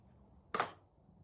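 A single short snip as a small piece of lace is cut in half with scissors during a milk-paint cottage decor project, one brief crisp cut standing out against a quiet background.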